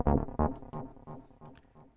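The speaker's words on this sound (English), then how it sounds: "It's an acid sample," An acid loop sample from Native Instruments, sliced and rearranged, gives a short choppy run of electronic hits with two heavy low thumps at the start, then lighter stuttering pulses fading down, with no voices.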